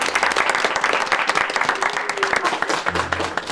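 An audience applauds a candidate at a party gathering, a dense burst of clapping that runs the whole time, with a faint voice briefly underneath.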